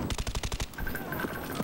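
Rapid burst of suppressed AK-47 fire in the shooter game Call of Duty: Black Ops, about a dozen quick, evenly spaced muffled shots in under a second, then a lull of game ambience.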